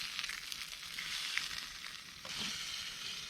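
Cheese and meat sizzle in a pan over a campfire with leftover fat and mushrooms, giving a steady, close, fairly quiet frying hiss with a brief crackling stir near the end and no talking.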